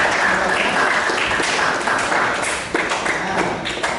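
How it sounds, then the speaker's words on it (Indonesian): A classroom of students claps steadily for two classmates who answered, dense continuous applause with scattered sharper claps, close and lively, no talking over it. "Tepuk tangan dulu untuk kedua teman yang sudah memberikan."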